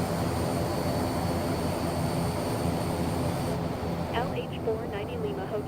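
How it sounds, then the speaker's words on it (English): Steady, loud drone of a Fokker F27 turboprop airliner's engines in a flight simulator game, a constant propeller hum filling the cabin, with faint tonal beeps near the end. "We just started flying using this nice Fokker F27."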